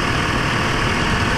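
A Mitsubishi 4G63 gasoline engine in an Adventure van idles steadily during break-in after repair work, giving a continuous even drone with no speech.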